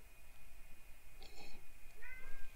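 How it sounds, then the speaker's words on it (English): A calico cat meows a couple of times indoors at night, short tonal calls rising out of a quiet room hum. "that's my calico meowing"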